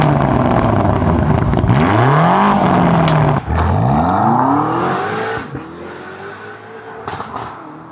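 A BMW with a Miltech catback exhaust revs hard through several loud, rising sweeps, dropping back between pulls and easing into a lower rumble near the end, with no talking.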